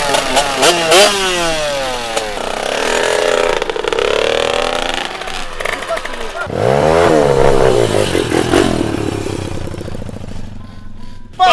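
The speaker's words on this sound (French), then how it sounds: "vous pouvez démarrer dès maintenant vos motos" Motocross motorcycle engines start and rev repeatedly, their pitch rising and falling in loud bursts, with voices shouting over them.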